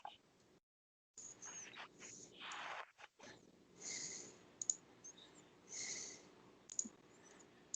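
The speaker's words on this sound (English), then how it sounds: "Now I see your mouse moving and clicking around" Computer mouse clicks, sharp and close, come in a scattered irregular run over soft breathing-like background noise and short quiet gaps.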